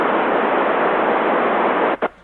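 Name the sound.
radio white noise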